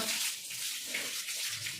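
Water gushes steadily from a household tap during festival house cleaning, a continuous close hiss without a break.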